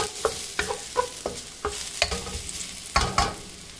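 Sliced garlic frying in a pan under a soft sizzle, with a dozen quick, evenly spaced spatula scrapes stirring it up close; no one speaks.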